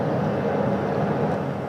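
A helicopter flies back toward a ship's flight deck at sea during a crew recovery airlift, heard as a steady, continuous low engine and rotor roar without pauses, fairly loud and constant throughout.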